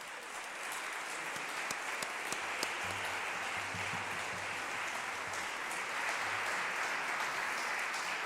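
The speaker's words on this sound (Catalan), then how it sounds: "Anem a donar-los un fort aplaudiment," An audience claps steadily for the Rondalla Trencacordes, a Valencian traditional-music group, producing a dense, even wash of applause that continues for the whole stretch without a break.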